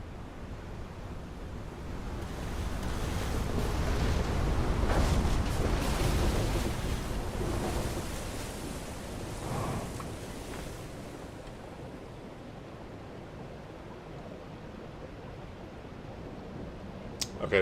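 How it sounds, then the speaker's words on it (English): Flood water rushing in across a scene in the game Echoes of the Eye, a broad roaring wash that swells, peaks midway and then settles into a steady lower rush, loud and continuous with no voices. "and then flood water is coming in."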